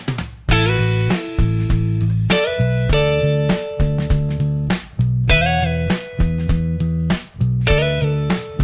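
Motown-style electric guitar phrases with sliding notes play over a rhythmic backing track with bass and drums, steady and fairly loud.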